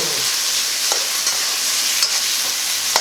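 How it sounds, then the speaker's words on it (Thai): Pork stir-fries in a hot pan, a loud continuous hiss of frying with a few soft spatula scrapes and taps, close up and without speech. "ตามด้วยหมูนะคะเอาหมูลงไปผัดเลย ผัดให้เข้ากัน"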